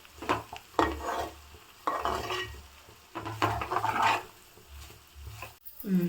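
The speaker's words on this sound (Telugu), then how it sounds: "సిమ్లో పెట్టుకొని ఫ్రై చేసుకుందాము. మనం మూత పెట్టకుండా ఫ్రై చేసుకోవాలి." Broad beans fry uncovered in an open pan on a low flame, giving a soft sizzle as a spatula stirs and scrapes the pan again and again, with a metallic clank near the end.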